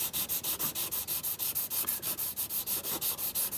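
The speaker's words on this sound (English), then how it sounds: "So doing exactly the same on this bit. Fairly coarse sandpaper" Coarse sandpaper rubs back and forth on the plastic surface of a Star Trek Enterprise model kit, a steady rapid rhythm of even scratchy strokes, close and alone without talk.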